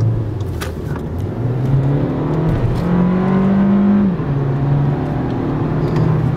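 A car engine accelerates while driving, a loud, steady close drone whose pitch climbs through the gears and then dips briefly before rising again, with no talking over it.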